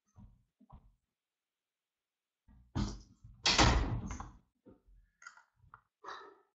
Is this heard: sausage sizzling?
no